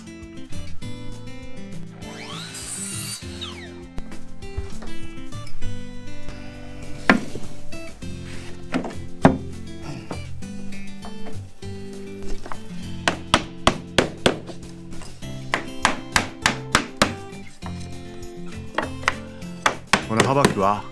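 Cedar baseboards are fitted and fixed to the floor during a carpentry renovation: repeated sharp knocks and taps of wood and tools, irregular at first, then quick clustered strikes, close and fairly loud.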